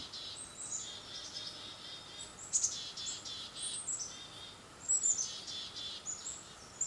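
Birds chirping at a distance, light overlapping high tweets and trills over a quiet outdoor background, with a few slightly louder calls.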